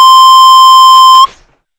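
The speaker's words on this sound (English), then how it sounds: "I heard a beep." An electronic beep plays as a single loud, steady tone, close and clean, lasting just over a second before it cuts off abruptly, followed by a brief faint rustle and then silence.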